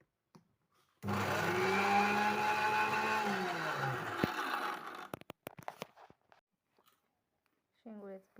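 A kitchen mixer grinder whirs loudly for about four seconds while blending green chilies into a paste, its motor pitch sliding down as it stops, followed by scattered clicks, faint knocks and a brief voice at the end.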